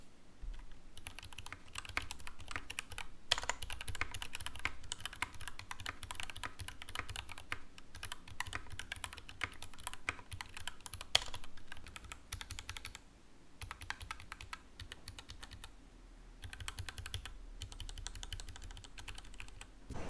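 Continuous close-miked typing on a mechanical keyboard with olive-oil-lubed switches, soft muted clacks in a fast irregular rhythm, quiet overall with brief pauses between bursts.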